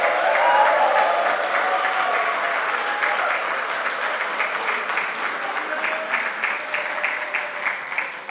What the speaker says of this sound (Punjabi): ਤੁਹਾਡੇ ਵਾਸਤੇ ਤਾਲੀਆਂ, ਆਪਣੇ ਆਪ ਵਾਸਤੇ ਤਾਲੀਆਂ।